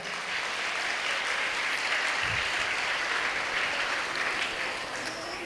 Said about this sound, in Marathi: तुमच्या सर्वांसाठी, तुम्ही स्वतःसाठी टाळ्या झाल्या पाहिजे पहिल्यांदा